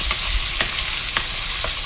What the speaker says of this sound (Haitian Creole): ça c'est épices qui bien frit